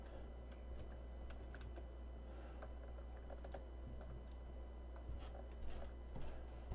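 Steady typing on a computer keyboard, with quick light key clicks in an uneven rhythm over a low constant hum, close and moderately quiet with no voice.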